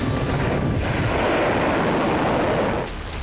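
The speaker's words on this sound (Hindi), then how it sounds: "एक के बाद एक कई धमाके हुए, जिससे भारी तबाही हुई।" Explosions from airstrikes in the Iran–Israel war, a dense roaring rumble of blasts that fills the whole stretch, loud and continuous, easing slightly near the end, with no voices.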